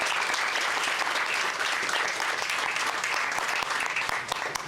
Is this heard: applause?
yes